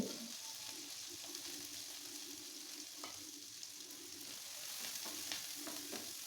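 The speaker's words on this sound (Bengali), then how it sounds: "ফ্রাই প্যানে একটা তেল দিয়ে দিলাম পেঁয়াজ কুচি রসুন কুচি আদা কুচি দিয়ে দিছি" Chopped onion, garlic and ginger frying in oil in a frying pan make a soft, steady sizzle, with faint occasional taps of stirring.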